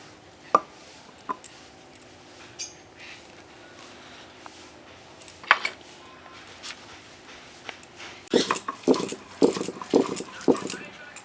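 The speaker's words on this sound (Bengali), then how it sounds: "আমি আদাও বেটে নিচ্ছি" Ginger is ground on a grinding stone, with sparse knocks at first that become a quicker run of rhythmic scraping thuds near the end, while someone talks throughout.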